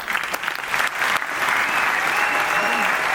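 Sustained applause from a large audience at a municipal New Year address in Fos, as the crowd rises to clap for the town council team; dense steady clapping fills the whole stretch, loud and continuous.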